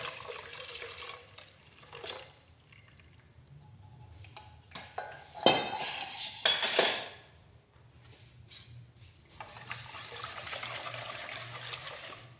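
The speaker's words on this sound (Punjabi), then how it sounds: "ਇਹਨੂੰ ਸਿਰਫ 2 ਮਿੰਟ ਲਈ ਇਸ ਤਰੀਕੇ ਨਾਲ ਤੁਸੀਂ ਇਹਨੂੰ ਫੈਂਟ ਲਿਓ" Milk cream with lemon juice is whisked by hand in a metal pot to make butter, giving clattering, scraping strokes against the pot that come in uneven bursts, with a louder stretch partway through and no talking.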